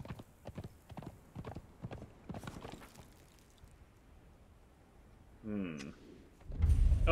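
Horse hooves clip-clop steadily in Conan Exiles, a rapid rhythmic series of moderately loud steps, with a louder burst of movement near the end; players talk over the hoofbeats.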